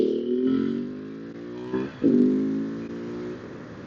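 A KTM 690 motorcycle accelerates downhill, its engine climbing in pitch, dropping briefly at a gear change, then pulling hard again in third gear for a wheelie, heard close and fairly loud.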